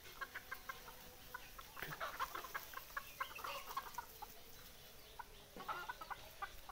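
Free-range desi chickens on a small farm cluck steadily in soft, overlapping calls at a moderate distance, with a faint outdoor background and no talking.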